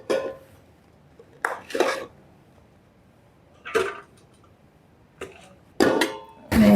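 Short clinks of cutlery on a plate come in scattered bursts while someone eats rice with chicken fry at a night dinner, with quiet pauses between them and no talk.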